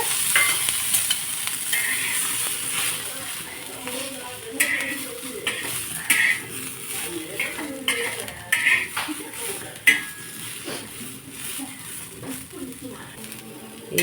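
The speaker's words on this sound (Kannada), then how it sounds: "ಒಂದು ಸ್ಪೂನ್ ಎಣ್ಣೆ ಹಾಕೊಂಡು ಉರಿಯಾಕ" Roasting in a pan with a spoonful of oil while cooking chavallikayi palya: steady soft sizzle under stirring, with frequent scrapes and clinks of a spoon against the pan, continuous throughout.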